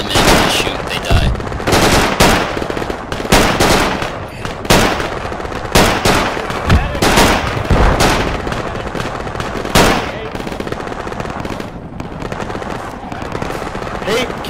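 Video game battle with rapid, loud gunfire, including an SVD rifle, in dense bursts and single cracks that continue almost without pause. Voices talk over the shooting.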